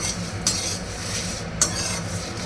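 Cumin and spices being dry-roasted in a pan for a homemade namkeen masala, with a steady scraping and rustling stir and two sharper clinks of a utensil against the metal.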